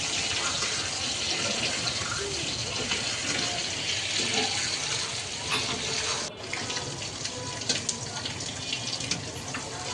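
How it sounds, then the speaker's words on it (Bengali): Water gushes steadily from a tap into a pot of cooking chicken for a curry, a continuous close splashing fill that runs for about ten seconds with one short break partway. "এখন পরিমাণ মতো ঝোলের জন্য পানি দিয়ে দিলাম"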